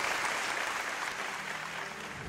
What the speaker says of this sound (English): A round of applause to Mara.